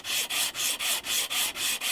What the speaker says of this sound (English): This sandpaper is definitely not 80 grit anymore, so we'll give it a bit of a 120 grit.